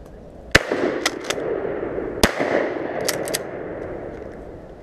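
Shotgun blasts fired at wood ducks outdoors, several sharp loud reports spaced irregularly, including a quick double pair, with a rumbling tail after each shot.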